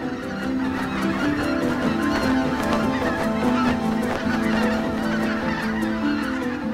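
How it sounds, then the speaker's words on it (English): Greater white-fronted geese resting near power plant towers in the Ruhr Valley honk in a loud, continuous chorus of overlapping calls, with no voices. "The towers of the power plant do not bother the resting greater white-fronted geese."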